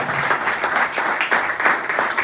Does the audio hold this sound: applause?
yes